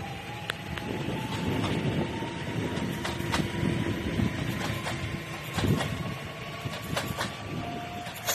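A PKP Impuls 2.0 passenger train, four cars in a double set, rumbles past outdoors near Wysoka Kamieńska with a steady broad roar, wind buffeting and faint squeals throughout.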